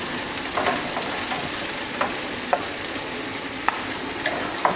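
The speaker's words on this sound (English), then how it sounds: "We got the bacon sizzling." Bacon sizzling in a pan, a steady soft frying hiss with occasional small pops and a stirring scrape, no talking.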